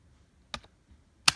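Keys on a Rii gaming keyboard clack in two short, sharp bursts about three quarters of a second apart, close and crisp against a quiet room.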